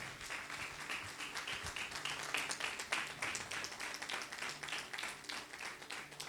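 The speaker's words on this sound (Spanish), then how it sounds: "¿Cuánto un aplauso a Dios por esto?" A church congregation applauds during a Spanish-language sermon, a continuous rippling patter of many hands in a reverberant hall, moderate and steady throughout with no clear speech.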